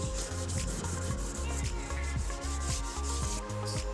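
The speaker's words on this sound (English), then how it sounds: "with some 800 grit sandpaper, giving the frame a very light final sanding." Light final hand sanding of a wooden coin display frame with 800 grit sandpaper, a steady rubbing rasp repeating close by, running under background music throughout.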